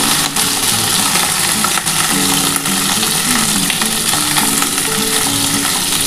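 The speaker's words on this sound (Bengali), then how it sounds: "আমার কিন্তু আলু পটলটা আমি একসাথে ভাজছি" Potato and pointed gourd fry together in a pan, a loud, close, continuous sizzle with stirring scrapes and a low hum underneath, no talking.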